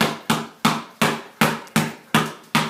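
A basketball bounces hard on the floor in a steady one-ball handling drill, eight sharp close thuds at an even, brisk rhythm with no talking.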